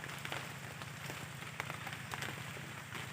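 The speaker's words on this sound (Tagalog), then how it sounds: "malulam ang panahon kasi umuulan" Steady rain patters down during a rainy harvest day outside a hut, a soft, continuous hiss with scattered faint drips and taps, no voices.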